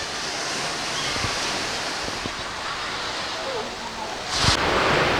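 Ocean surf at Sand Beach on Mount Desert Island, Maine, a steady wash of waves with wind rumble, a few low thumps and a brief louder surge near the end.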